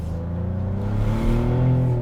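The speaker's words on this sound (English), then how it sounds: "Traditional exhaust notes and Italian passion," A 2024 Maserati GranCabrio's exhaust rises under acceleration, a steady low engine drone building in loudness over a couple of seconds, heard close and without talk.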